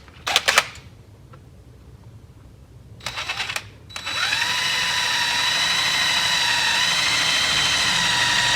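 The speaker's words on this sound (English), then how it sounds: "we'll go ahead and get the drill bit, and we'll drill that out" A power drill with a bit bores a hole during a Can-Am Defender turbo install: two brief bursts of the drill starting up, then a sustained high-pitched whine that runs steadily to the end.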